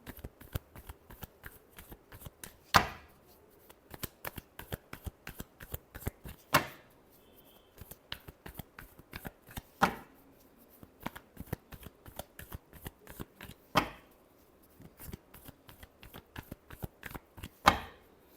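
Tarot cards are shuffled over and over in a quiet room, a steady soft riffling of many quick flicks broken every few seconds by a louder slap as the deck is squared.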